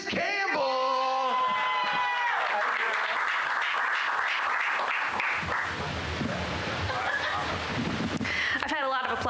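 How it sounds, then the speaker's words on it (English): A comedy club audience bursts into loud applause for a comedian, dense clapping with whoops and cheers sustained for several seconds, tapering slightly near the end. "I've had a lot of applause tonight, guys."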